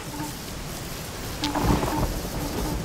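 Rain falls steadily in the Freak Fortress 2 video game, and a rumble of thunder rolls in about halfway through and lingers to the end.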